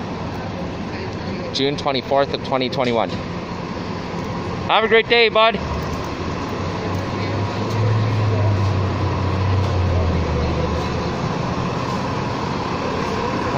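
A New Flyer XD40 Excelsior 40-foot low-floor city bus pulls away, its engine a low rumble that grows and sustains in the latter half after someone speaks briefly over it.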